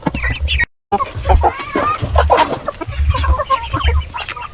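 Several native chickens cluck and chatter nearby on a farm in short, irregular bursts, with a brief dropout early on.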